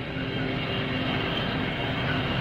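Airplane engine droning steadily and loudly throughout, a continuous even roar with a faint tonal hum, no talk.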